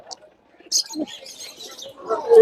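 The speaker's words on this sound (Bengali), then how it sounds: "এখানে কি কি কবুতর আছে" Pigeons coo and chirp up close at a bird market, low throaty calls mixed with brief higher tweets, with faint voices in the background.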